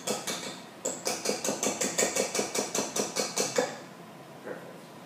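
Whisk attachment from a stand mixer being tapped repeatedly against a bowl to knock off banana sour cream cake batter, about fifteen quick, even metallic knocks in a steady rhythm, close and fairly loud, then quiet.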